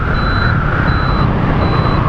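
A Peugeot Django 150 Sport scooter's turn signal beeps three times in an even rhythm, a thin tone sitting under loud riding noise.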